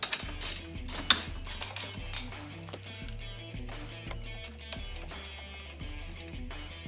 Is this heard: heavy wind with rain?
no